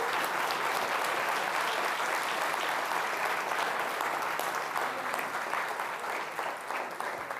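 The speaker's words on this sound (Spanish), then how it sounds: "Dale un fuerte aplauso al Señor." Loud, sustained applause fills a church worship gathering, a dense steady clatter of many hands clapping throughout without a break.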